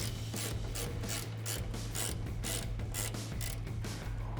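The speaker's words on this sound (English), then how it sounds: "Grab a 14mm socket, or we're using a ratcheting wrench here, and get these removed." A ratcheting wrench removing 14mm top nuts from a Toyota Tacoma strut, giving a rapid, even ratchet clicking in repeated strokes, close and steady over a low mechanical hum.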